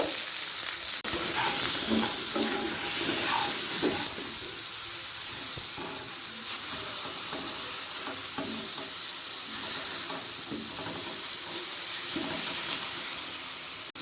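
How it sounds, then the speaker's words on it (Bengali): Pointed gourd fries in a little oil with salt and turmeric, a steady sizzle and hiss with occasional stirring scrapes and soft clinks, no talking. "লবণ আর সামান্য হলুদ দিয়ে পটলটাকে ভেজে নেব"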